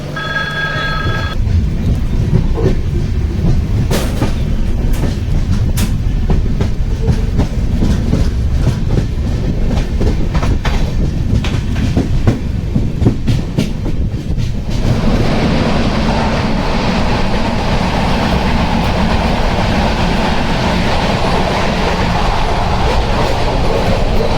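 A Diva–Sawantwadi passenger train rumbles steadily along the tracks in heavy rain, with rhythmic clickety-clack and loud continuous rolling noise, the tone shifting partway through as the carriage sound changes.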